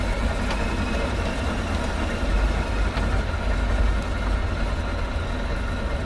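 A Ford 4-AT Trimotor's engines run at a steady idle in Microsoft Flight Simulator, a continuous loud low droning rumble with no talk.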